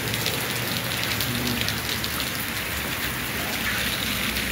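Heavy downpour in Tekirdağ, a steady dense hiss of rain pouring onto surfaces, constant and loud throughout with no break.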